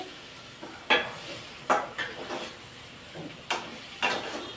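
Spoon stirring spiced masala for brinjal curry in a pan, five or six sharp clanks against the metal at irregular intervals over a soft low sizzle, close and fairly quiet.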